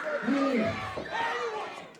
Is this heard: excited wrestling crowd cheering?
yes